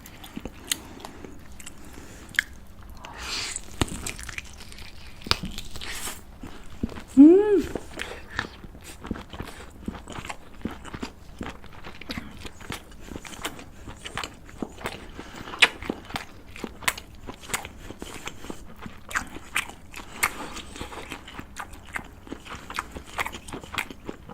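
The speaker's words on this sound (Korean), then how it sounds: "이건 초장인데 찍어 먹어볼게요" Close-up eating of a giant black tiger prawn dipped in chojang sauce: repeated crisp bites and wet chewing clicks in an uneven rhythm, with a brief vocal sound partway through.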